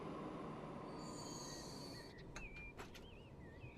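A train running in the railway management game Transport Fever 2 carries a steady rumbling roll with high metallic wheel squeals, then sharp clacks and warbling whistle-like tones near the end, continuous and fairly close with no voices.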